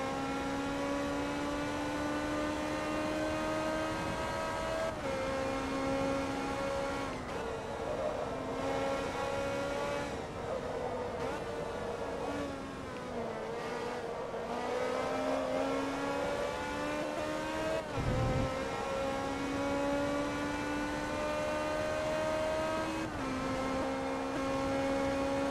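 A race car engine in Forza Motorsport 2 drones loudly and steadily, its pitch rising through the gears and dropping at each shift and braking point, with no talk over it.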